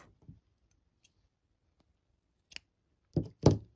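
Scissors snip through yarn while finishing a crocheted Christmas stocking, a pair of sharp close cuts near the end of an otherwise quiet stretch, preceded by a brief soft click.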